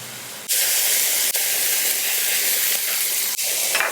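Tofu frying in a pan begins abruptly in a loud, bright, continuous hiss and sizzle. Brief dips break it a few times, with no talk.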